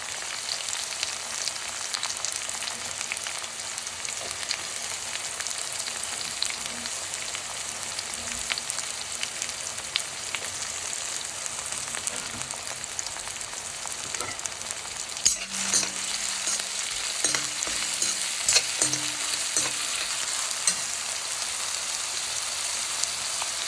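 Onions and curry leaves frying in oil in a pan for a ridge gourd and chickpea curry, a continuous close hiss and crackle with scattered stirring scrapes and clinks toward the end, no talk.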